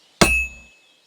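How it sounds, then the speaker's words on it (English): A single sharp metallic clang rings out as a blacksmith strikes a sword on an anvil in Kingdom Come: Deliverance 2, loud and close, with a bright ringing tail fading within half a second. "When I hammer a piece to a beat, the work goes by easier."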